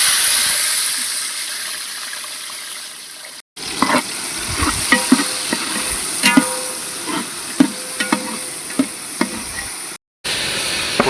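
Sliced white onions fry and sizzle steadily in cold-pressed groundnut oil, with clattering stirs and scrapes of a spoon against the pan cutting through the continuous hiss.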